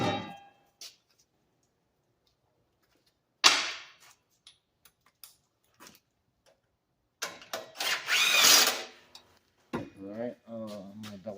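Wrench tightening the mounting hardware of a DIY inverter generator, with short metallic ratchet clicks and clanks separated by silences, and someone talking near the end.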